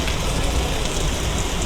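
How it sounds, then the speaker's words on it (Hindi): Heavy rain pours down in Jammu as a dense, continuous hiss and patter, loud and steady throughout with no voices. "बारिश जम के इस समय बरस रही है जम्मू के अंदर"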